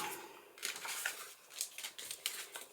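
Scissors snipping pink vellum while making a heat-embossed flower card: a series of short, crisp cuts and light paper rustles, close up and fairly quiet, irregularly spaced.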